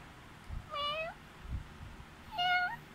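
Two distinct cat meows about a second and a half apart, close and clear, with faint soft thumps between them.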